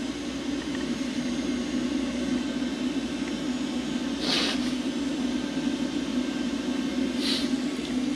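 A freshly overhauled Espar diesel heater in an off-grid RV van runs with a steady, loud blowing roar and a constant low hum, broken by a couple of brief hissy bursts.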